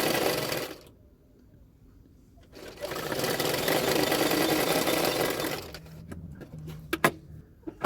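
A sewing machine stitches the hem of a blouse sleeve in a steady whirring run, pauses, starts again, and ends in a few short bursts and clicks.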